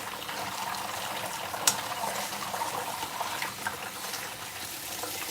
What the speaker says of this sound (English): I rinse it a little bit with cold water